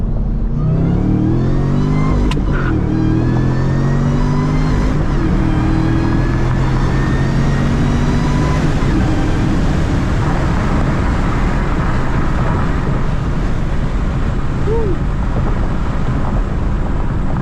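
Engine of a new stock car revving hard during a ride along, a loud rising drone that climbs through the gears and then fades into rushing road and wind noise, heard from inside the cabin.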